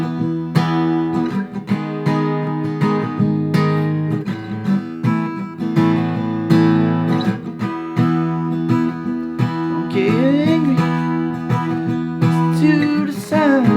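An acoustic guitar is strummed through a chord progression, steady and up close, with a few notes bending near the end and no talking.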